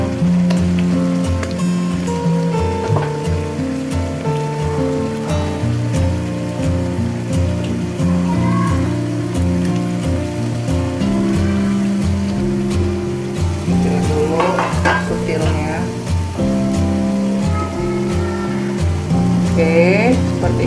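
Meat frying and being stirred in a hot pan, a continuous loud sizzle with occasional clinks and scrapes, under a steady background hum.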